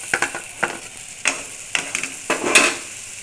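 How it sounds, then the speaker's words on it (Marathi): Spice masala with tomato paste roasting and being stirred in a pan for fish curry, with a steady low sizzle broken by several sharp scraping stir strokes at irregular intervals, close and fairly loud. "सर्व मसाला व्यवस्थित भाजून घ्यायचा"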